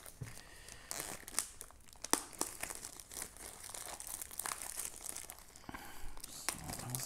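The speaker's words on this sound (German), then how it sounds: "Erstmal die Folie abmachen." Plastic shrink-wrap foil crinkling and tearing as it is peeled off a Yu-Gi-Oh! Legend of Blue Eyes White Dragon card display box, a close, continuous crackle with sharp rips throughout, no talk.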